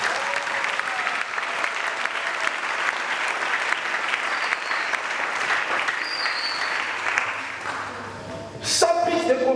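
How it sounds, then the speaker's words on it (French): A church congregation applauds at length to glorify God, a loud, dense, steady clatter of many hands that carries on without a break, then eases near the end as a voice and music come in. "Est-ce qu'on peut acclamer pour la gloire de Dieu?"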